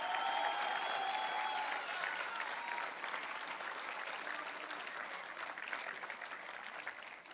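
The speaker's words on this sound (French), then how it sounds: "Vous pouvez applaudir les JA de Dordogne." Steady applause from a large crowd at a farmers' union meeting, sustained clapping that tapers only slightly, with a faint voice briefly audible near the start.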